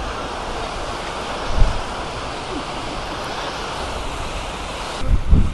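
Water rushes steadily at a dam in the hills near Keonjhar, a broad continuous roar with gusts of wind buffeting the microphone, while someone speaks over it.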